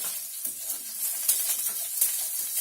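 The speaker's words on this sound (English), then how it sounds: "Now it's very hot, so I'm going to stir it around a little bit, maybe lower the heat." Hot food sizzling steadily in a pan as it is stirred, with a constant close hiss and occasional scrape of the utensil over nearly three seconds.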